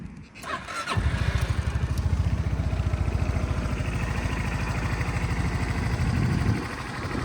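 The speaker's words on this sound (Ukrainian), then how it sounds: "Рівненько, тихенько, чистенько, чудово працює форза." A Honda Forza MF08 fuel-injected scooter starts up after a brief crank, then settles into a close, steady, even idle that continues to the end.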